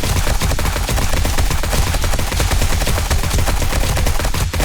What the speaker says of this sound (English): Coil rifle tears some stuff up too.